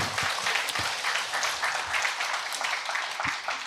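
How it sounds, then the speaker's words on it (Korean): An audience at a humanities lecture forum applauds after a talk on Buddhist civilization, a dense, steady wash of clapping from many hands filling the room, heard alone without speech. "다시 한 번 더 큰 격려의 박수 부탁을 드립니다"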